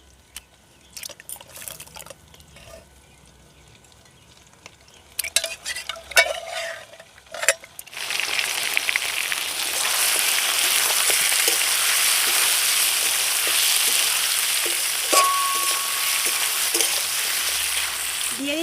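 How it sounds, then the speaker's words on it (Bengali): Boiled mutton added to fried onions in a pan, with a few clinks and handling sounds first, then a loud, steady sizzle that swells and holds, broken by occasional stirring scrapes. "পেঁয়াজটা ভাজা ভাজা হয়ে গেছে এবার আমি এর মধ্যে দিয়ে দেবো সেদ্ধ করে রাখা মাংসগুলো"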